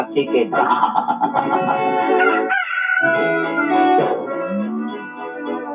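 A rooster, kept as a fighting cock, crows loudly and close by, its drawn-out harmonic call rising over overlapping speech and background clucking.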